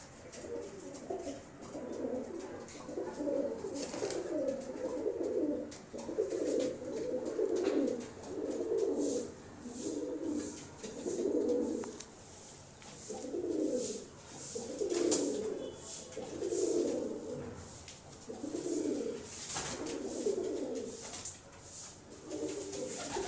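Several pigeons coo in repeated low, throaty phrases, pulsing steadily throughout with short pauses, fairly close and clear, with a faint outdoor hiss and occasional light clicks behind them.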